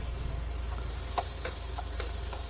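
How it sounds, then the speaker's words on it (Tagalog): Oil and butter sizzling in a heated pan for sautéing, a steady close hiss with a few faint ticks and pops, no voices. "Gagamit po tayo ng butter para sa paggisa."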